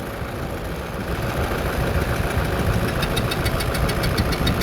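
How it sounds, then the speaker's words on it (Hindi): A Toyota 1KD diesel engine running rough with blow-by and faulty injectors knocks steadily at close range, a loud, continuous clatter with no voices over it. "द इंजन साउंड्स टेरेबल और इंजेक्टर्स इसके फ्लूस नज़र आते हैं"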